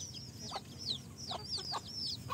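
Young chicks on an organic farm give repeated high, thin cheeps and soft clucks, several overlapping calls at moderate distance over a steady low background hum.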